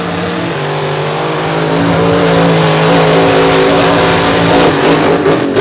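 Monster trucks race on loose beach sand at the Monsters On The Beach show, their engines roaring loud and close as they rev and build steadily for several seconds.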